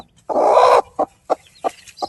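A hen with newly hatched chicks, on a poultry farm in Burhanpur, gives one drawn-out loud cluck followed by four short, evenly spaced clucks, close by and clear.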